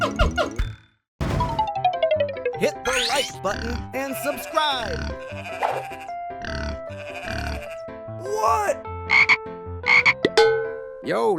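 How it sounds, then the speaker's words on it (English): Frog croaking in a cartoon farm animal prank, with repeated loud croaks and grunting calls mixed among busy cartoon sound effects and a short silent gap near the start. "Yo, let's nab that frog."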